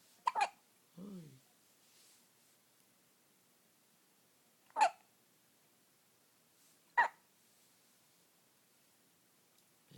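A baby hiccups three times, loud and close, with short sharp bursts spaced a few seconds apart and a brief soft vocal murmur near the start.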